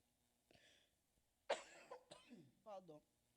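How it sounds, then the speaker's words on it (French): A person coughs a few times, one sharp, loud cough followed by rougher bursts and a throat-clearing sound, all close and fairly quiet. The coughing comes from an allergy, indoors with no other sounds. "j'ai un problème d'allergie qui me fait de temps en temps tousser"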